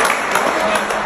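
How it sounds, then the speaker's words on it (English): A short burst of dense audience applause, a crowd clapping steadily and fairly loudly. "Don't fucking clap"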